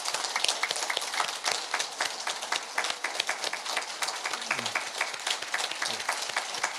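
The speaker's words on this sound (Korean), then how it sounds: "큰 박수 부탁드립니다" Congregants at a temple installation service clap during a flower presentation to a minister, brisk crisp applause from a modest crowd continuing throughout, close and lively.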